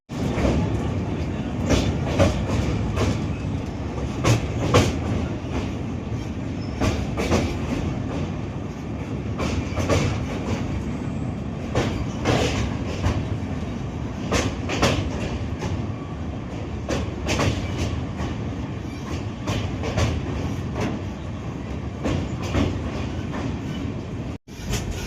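A passenger train runs through the Assam hills on its approach to New Haflong station. Wheels clatter in a rhythmic clickety-clack over a steady rumble, heard close from inside the carriage throughout.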